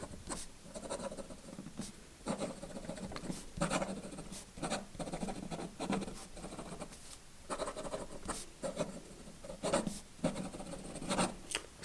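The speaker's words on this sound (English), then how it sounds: "In terms of being able to keep up with fast writing" A Kaweco Perkeo fountain pen scratches across paper in quick bursts of fast writing, each stroke a soft close-up rasp separated by short pauses, with no talking.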